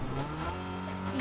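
A Fortnite video game car engine hums and revs in a steady, droning tone, close and continuous for a brief moment with no talking.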